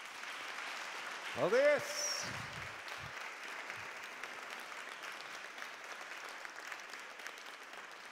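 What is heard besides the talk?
audience applause at an awards ceremony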